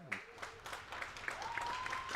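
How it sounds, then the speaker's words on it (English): A crowd applauds steadily at the close of a U22 elite provincial water polo game, fairly faint with claps throughout and a sustained whistle-like tone near the end. "An ovation from the crowd"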